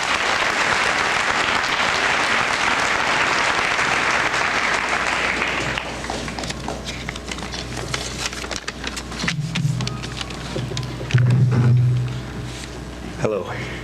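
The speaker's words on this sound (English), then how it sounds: "Let's give him a nice round of applause." A high school senior assembly audience gives a loud, sustained round of applause that thins out after several seconds, followed by some microphone handling and a brief voice near the end.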